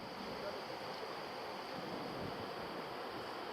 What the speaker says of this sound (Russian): И водопад, красивый водопад с верхних озер